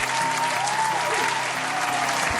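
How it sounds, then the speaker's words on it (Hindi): Studio audience on a carol-singing reality show gives loud, dense, continuous applause, close and even throughout, with a faint tone beneath. "ज़ोरदार तालियां आप लोगों के लिए।"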